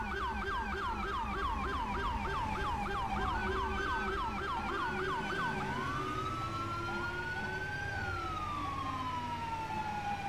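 A video game vehicle siren cycles rapidly in a fast yelping pattern, then slows into long drawn-out wails, loud and continuous over low rumbling noise.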